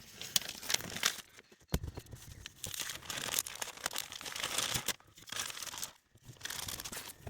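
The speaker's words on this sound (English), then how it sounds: "pull the tape off" Tape is peeled off a car's sagging roof lining in several crinkly, tearing pulls, each with a brief pause between them, heard up close.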